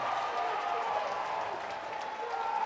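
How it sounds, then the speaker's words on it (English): A home crowd at a men's college volleyball match in a gym roars with sustained cheering and applause, a steady dense wash of noise that stays fairly even and slightly distant. "This Firebird crowd erupts"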